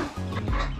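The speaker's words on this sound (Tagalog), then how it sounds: "Ito yung mga manok." Chickens cluck nearby in a short, dense burst of overlapping bird calls.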